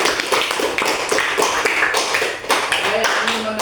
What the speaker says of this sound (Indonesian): Tepuk tangan tuh buat kelompok 1.